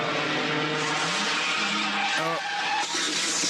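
Truck in a horror film skidding to a halt, heard as an engine roar and a tire squeal that rise and then cut off, loud and up front, ending in a short broken screech.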